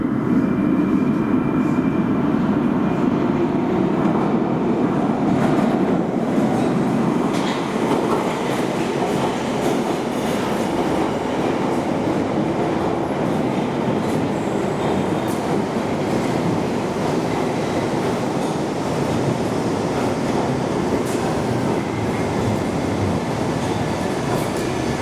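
A London Underground Bakerloo line train pulls out from a platform at Paddington station, a steady loud rumble with clattering wheels and rail noise that continues throughout, with no talking.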